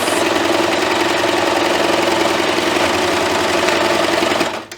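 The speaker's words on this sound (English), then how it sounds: "Get to the corner, put my needle down, turn, continue sewing, to the corner, needle down, turn, and sew to the top." A sewing machine stitches seams on a fabric treat bag at steady speed, a loud close mechanical whir with a fast rhythmic needle clatter that stops abruptly at the end.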